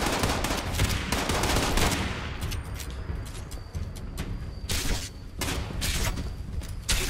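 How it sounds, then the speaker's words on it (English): Sustained automatic gunfire in a post-apocalyptic online shooter game, loud rapid bursts filling the opening seconds, then repeated volleys with brief gaps, no talking. "See if I can damage them now with the bullets"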